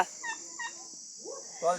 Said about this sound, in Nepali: वहाँ तर्की छ